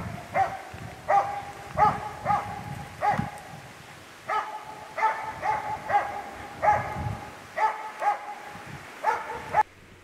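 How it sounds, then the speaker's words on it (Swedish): Jämthund, the Swedish elkhound, barks in steady repeated bursts, roughly two or three per second, pausing once briefly before resuming; the barking is clear and fairly close, with no talking. "hunden har en jämn skallgivning och ett skall som hörs på långt avstånd"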